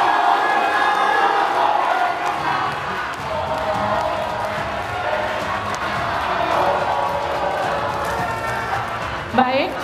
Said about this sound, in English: Berikan aplaus dan apresiasi untuk 3 calon